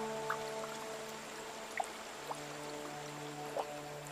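Faint trickle of a small village stream in Xiaoling carrying wastewater from Xuan paper mills, with a few soft drips and splashes over a quiet, steady hum.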